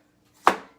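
A single crisp knife stroke cuts through a scallion onto a cutting board, one sharp close thunk with a short fading tail in an otherwise quiet kitchen.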